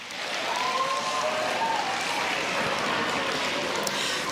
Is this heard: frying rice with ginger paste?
no